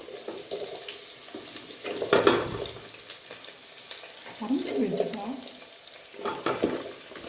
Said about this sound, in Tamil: நாலு பல் பூண்டு இடித்து வச்சுருக்கேன் இது போட்டுட்டு நம்ம கொஞ்சம் வதக்கலாம்